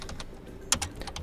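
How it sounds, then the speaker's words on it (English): Someone types on a computer keyboard to enter a Linux terminal command, giving a quick run of light key clicks with one sharper tap partway through, close and clear with no speech. "in order to install pip, you have to basically type in sudo apt install"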